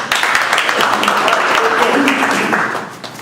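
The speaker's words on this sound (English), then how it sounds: "Round of applause." An audience applauds after a martial arts self-defense demonstration, a dense burst of clapping lasting about three seconds before fading, with voices mixed in.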